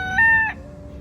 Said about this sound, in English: I think it was a mix of chickens and roosters, and they're going to sing you the song of their people.